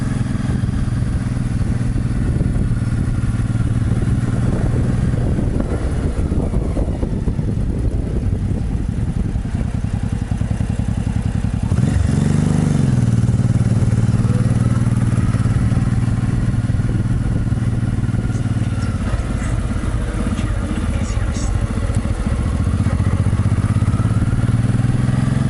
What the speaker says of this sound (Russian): Мотоцикл Honda с коляской.